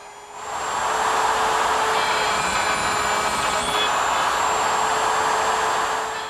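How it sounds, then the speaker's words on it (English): Woodworking router fitted with a dovetailing bit and guide collar, cutting tails through the ends of drawer boards in a dovetail jig, a steady high whine that starts after a brief quieter moment and holds loud and close. "Now to make the cut, I'm going to use my router, which is equipped with a dovetailing bit, and a little collar."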